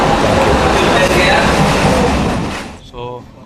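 Amrit Bharat Express on its inaugural Nagercoil to Mangaluru run pulling into Kozhikode station: a loud, steady rumble of wheels and carriages that fades toward the end, followed by a brief tonal horn or chime.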